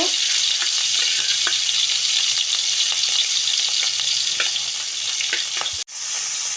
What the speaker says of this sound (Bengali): তেলটা আমার গরম হয়ে গিয়েছে। এখন মাছগুলো আমি ভেজে নেব।